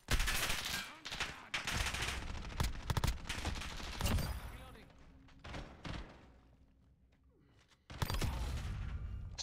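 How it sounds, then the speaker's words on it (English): Rapid bursts of gunfire, including shotgun blasts, in a Call of Duty Modern Warfare 2v2 match, loud and close in clusters with short gaps and a brief lull, with players talking over the shots. "Oh god, a shotgun?"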